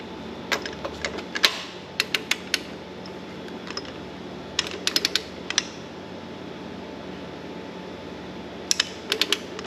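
A torque wrench clicks on John Deere B tractor cylinder head bolts in a workshop, sharp close clicks arriving in small clusters with gaps between over a quiet hum.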